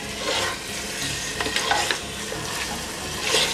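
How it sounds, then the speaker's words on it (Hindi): Chicken pulao masala fries in a pot over a high flame, giving a steady close sizzle with scraping stirring strokes throughout and no talking. "इसको हाई फ्लेम पे अच्छे से भूनेंगे"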